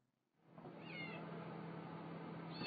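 A cat meows continuously and loudly while shut inside an oven, a strained, drawn-out cry that rises in pitch partway through and keeps going without pause to the end.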